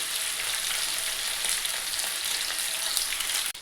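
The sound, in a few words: katla fish pieces lightly frying in oil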